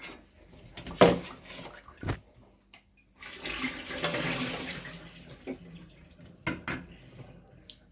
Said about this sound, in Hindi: अब हम इस पर अच्छी तरह से साफ पानी को ऐसे गुजार देंगे